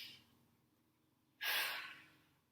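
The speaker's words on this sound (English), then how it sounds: "everyone take a deep breath in with me" A deep breath drawn in during a saxophone stretching and breathing exercise: one sharp, airy inhale arrives about halfway through, close and fairly loud, and fades out slowly over a quiet background.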